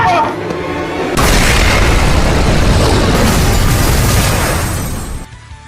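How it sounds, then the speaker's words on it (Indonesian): A loud, deep explosion bursts out and rolls on as a heavy, sustained roar for about four seconds before cutting off abruptly. "Setelah ledakan"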